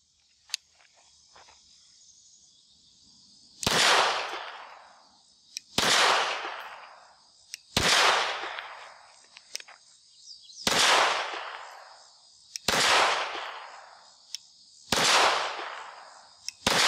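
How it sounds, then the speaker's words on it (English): Six loud, sharp pistol shots from a Beretta 80X Cheetah .380 fire at steady intervals of about two seconds, each crack trailing into a short echo, with faint background noise between them. "So let's shoot a mag through it and then we'll come back to it."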